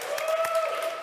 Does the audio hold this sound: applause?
yes